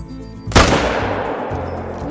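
Recurve bow heart shot on a piebald blacktail deer in theHunter: Call of the Wild, a single sharp, loud crack followed by a fading rumble over a quiet outdoor background.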